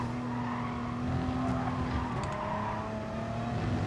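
An Audi race car in GT Sport brakes hard, with tyres skidding and squealing over a steady engine drone, loud and continuous through the whole moment.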